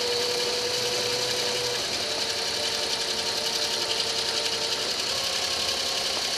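A computer-controlled sewing machine runs continuously, a steady fast mechanical whir with a constant hum, close and alone without talk.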